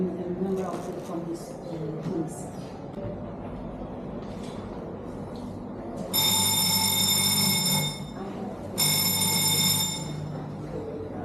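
An alarm bell rings loudly inside a resistance and freedom museum in Portugal, sounding in two long bursts of steady ringing over a background of people talking.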